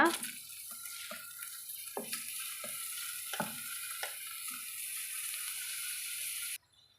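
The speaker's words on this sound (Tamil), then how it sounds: "இப்போ இதில் நம்ம இந்த ஊற வச்சுக்கிற அரிசி வந்து சேர்த்துக்கலாங்க" Soaked rice tipped into a hot pan of ghee and mint for ghee mint rice, a steady sizzle with a few sharp spoon-and-pan clatters, close by, ending abruptly.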